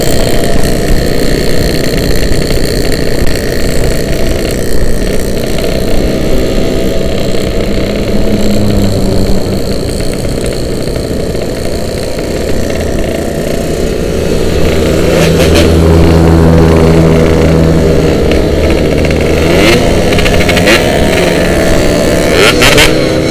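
Motorcycle engine revving at a group ride, a steady loud drone that swells and roars harder in the second half, with no talk.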